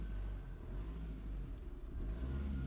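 Car with a TDI engine being driven while a fault causes shaking, a low steady rumble heard from inside the cabin, faint and even.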